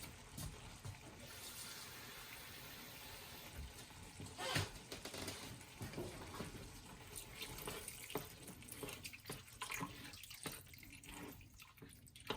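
Water pours from a cup into a thick paneer tikka masala curry made with heavy whipping cream, a close, uneven splashing and trickling with a few louder gushes, and faint talk in places.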